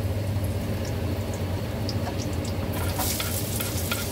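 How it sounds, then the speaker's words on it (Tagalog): Food browns in a hot frying pan for a ground beef lumpia spring roll filling, giving a steady, close, continuous sizzle with light stirring scrapes near the end. No one talks. "Browning natin sandali"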